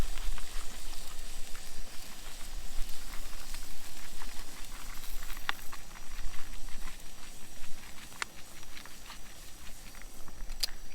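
A pot of water at a steady boil, with a dense, continuous bubbling and seething patter and occasional small clicks, close and fairly soft, with no voices.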